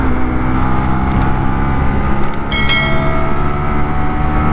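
A Honda RSX 150cc DOHC kapcai motorcycle engine on a top-speed run, giving a loud, steady high-revving drone with wind rush and a few brief high ticks.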